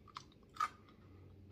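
Crunchy deep-fried hot dog "octodog" legs chewed close up, with a couple of short crisp bites standing out over quiet background noise, no talking.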